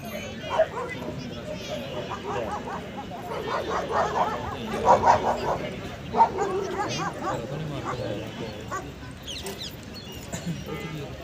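Labradors and retrievers at a dog show in Bathinda give scattered yips and barks in the background while people talk over them.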